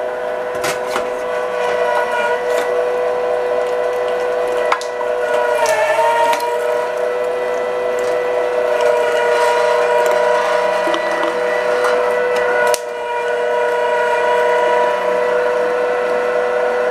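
A meat grinder works rendered pork fat down into a metal colander, giving a loud, steady mechanical whir with a faint grinding rattle that runs throughout and is briefly interrupted twice.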